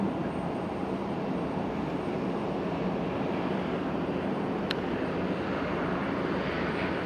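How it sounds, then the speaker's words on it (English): An ATR 42 turboprop at Fukuoka Airport gives off a steady, broad engine roar and drone that stays at an even level for the whole stretch. "here's another ATR"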